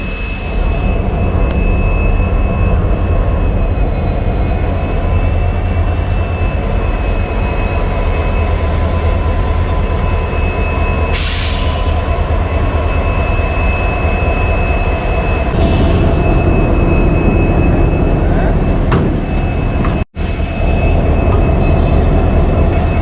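Sikkim Mahananda Express train during a locomotive reversal, a loud continuous rumbling drone with a steady high whine and a couple of brief hissing bursts, heard up close with no talk.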